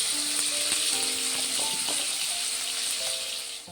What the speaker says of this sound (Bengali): কুচো চিংড়ি নুন হলুদ দিয়ে মাখানো আমরা এখানে ছাকা তেলে ভেজে নেব